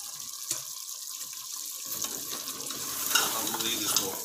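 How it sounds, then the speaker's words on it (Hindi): Beef trotters (paya) sizzle and fry in a pot after about a teaspoon of ground garam masala goes in, with steady stirring scrapes over a continuous close sizzle that grows slightly louder and busier; no talking. "हम मज़ीद इसको एक आंच से भूनेंगे 5 से 7 मिनट अच्छी तरह"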